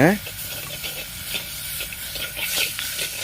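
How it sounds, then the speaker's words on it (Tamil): Tomatoes sauté in a pan for green mango rasam, a soft steady sizzle broken by scraping stirs, with a brief tonal sound at the very start and no clear speech. "இந்த தக்காளி நல்லா வதங்கட்டும்"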